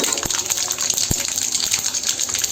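A spoonful of black mustard seeds hits hot oil in a pan, giving a steady, close hiss and sizzle with a few sharp pops.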